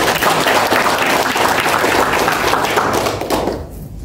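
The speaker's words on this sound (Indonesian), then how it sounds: "Tepuk tangan." An audience at a university orientation and motivation session for incoming students claps steadily, a loud dense patter of applause that holds throughout and tapers slightly at the end.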